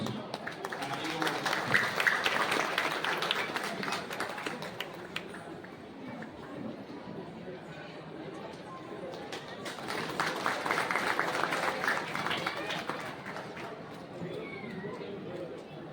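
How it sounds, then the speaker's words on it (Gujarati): An audience applauds at a Leuva Patel community gathering in Valsad as children are honoured on stage. Two swells of clapping, the first near the start and the second later on, mix with chatter and a voice over a public-address system. "તાળીઓ ઓછી પડે છે."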